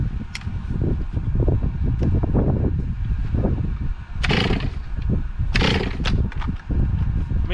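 A Stihl 046 chainsaw, freshly port-worked and reassembled, starts for its first run, with a loud, rough engine roar throughout and two sharp revving bursts near the end.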